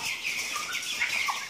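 Young Ross 308 broiler chickens peep and cluck in a warm poultry house, a dense, steady chorus of high chirps close by with no talking.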